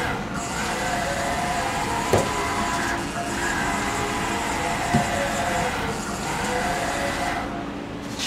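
A Haas VF0 vertical machining center drives its X and Y axes: a steady mechanical hum and whine holds at an even level throughout, with a couple of faint clicks as the motion changes and no voices.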